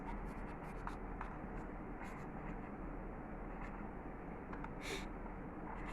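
A teacher writes a sentence on a board during an English grammar lesson: scattered scratchy, tapping strokes come and go over a steady low background hum, with no talking.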